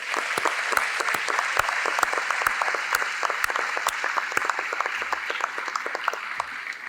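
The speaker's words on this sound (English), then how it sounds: "So let's give them a big round of applause." Graduation audience at Perry Technical Institute clapping steadily for about seven seconds, a dense, sustained wash of applause with sharp individual claps popping out near the microphone.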